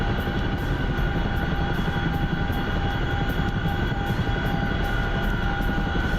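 Attack helicopter flying in a video game, a steady loud rotor and engine drone with rhythmic blade chop and a faint high whine, continuous with no talk.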